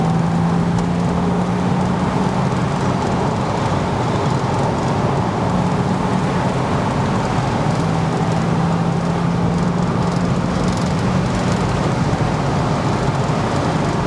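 Porsche Boxster 987 with its flat-six engine driving, heard as a steady, continuous hum of engine and road noise from inside the car, with no talking.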